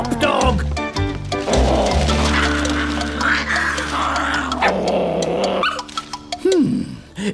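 A cartoon dog growls in a classic Paddington Bear cartoon, a rough, sustained snarl set against loud, steady music, with a voice briefly calling out near the end.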